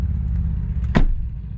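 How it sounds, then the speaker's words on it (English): A Hyundai IONIQ 5 car door swings shut with a single solid, muffled thump, close by, over a low steady background rumble. "thump when you close the door"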